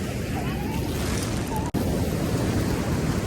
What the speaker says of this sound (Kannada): ಸಮುದ್ರ ವೇವ್ಸ್ ಎಲ್ಲ ರಫ್ ಇದೆ